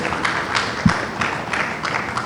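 Uneven clapping from a gathered audience greets Anambra State's electoral commissioner at a peace accord signing, moderately loud and rhythmic with crowd murmur beneath.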